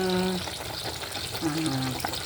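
Embutido, a Filipino meat roll, frying in a pan gives a steady sizzling hiss under intermittent voices and household sounds.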